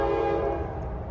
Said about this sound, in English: We got a Norfolk Southern train coming and a CSX train coming.